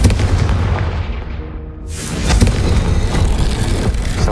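Confringo fire spell blasting in Hogwarts Legacy, a loud booming burst that swells sharply after a fading rumble and rolls on as a dense, sustained explosive roar with crackling debris.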